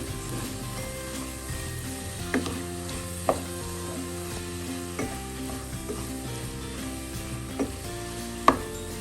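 Kerala-style Kollam country chicken curry masala sizzles and fries steadily in oil in a pan, with a spoon scraping and stirring through it and a few sharp knocks against the pan.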